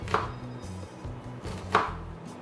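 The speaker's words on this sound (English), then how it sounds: "when I chop my onion" A knife chops through an onion on a cutting board with two crisp, close chops about a second and a half apart. No one speaks.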